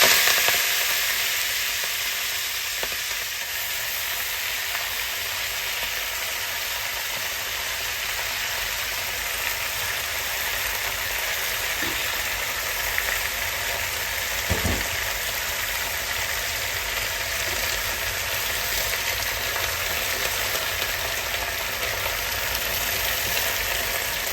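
Spinach stir-frying in a home-style pan, a steady broadband sizzle running the whole time with a faint mechanical hum beneath and a couple of brief clicks from the utensil.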